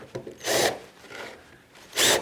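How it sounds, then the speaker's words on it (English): A small countersink cuts into a drilled hole in a pedal car part, giving two short, rough rasping bursts with a fainter scrape between them, close by and alone. "I'm just going to put a small countersink in there."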